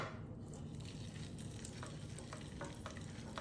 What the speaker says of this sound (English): We want it to be warm enough when we add the polenta that we hear a good sizzle.